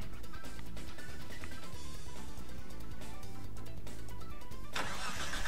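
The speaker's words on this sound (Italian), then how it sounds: "qua rombo di tuono, rombo del motore" A Nissan GT-R in the racing game Gran Turismo Sport roars continuously, a loud dense engine drone with revs building and a burst of brighter noise near the end.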